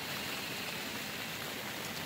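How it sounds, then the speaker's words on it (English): Steady, even rain patters continuously on a tent nearby, a soft hiss with no voices or breaks. "Did start raining on us"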